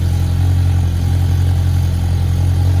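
A Polaris RZR Pro R runs through a Captains Choice E-Valve exhaust muffler, giving a loud, steady, unbroken drone close by.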